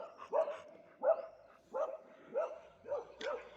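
A mother dog barks repeatedly near her puppies, six evenly spaced moderate barks, fairly close and with no talking.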